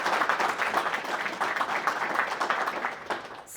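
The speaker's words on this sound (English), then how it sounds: "that deserves a round of applause" An audience at a university sport management summit applauds, a dense steady wash of many hands clapping at moderate distance throughout.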